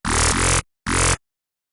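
NI Massive synth bass with the wavetable voice-spread macro turned all the way down: two loud, buzzy, harmonically dense bass notes, the first longer and shifting partway, then a short gap and a second shorter hit, alone.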